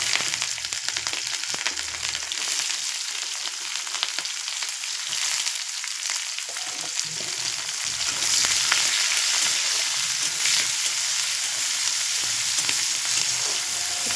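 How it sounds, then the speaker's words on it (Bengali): Sliced onions frying in oil with cumin, dried red chilli and bay leaf in a pan, a steady close hiss of sizzling with scattered crackles and occasional stirring scrapes, continuous throughout with no voices. "পেঁয়াজটা একটু লাল লাল করে ভেজে নেব"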